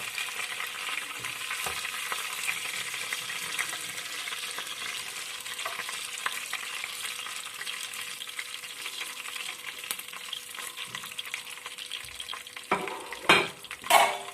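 Chicken wings fry in a pan with a steady, even sizzle throughout, and a few sharp clatters of utensils or a lid near the end.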